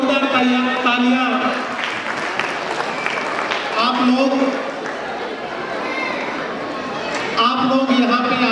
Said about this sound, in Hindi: तो एक बार पापा के लिए भी जोरदार तालियां।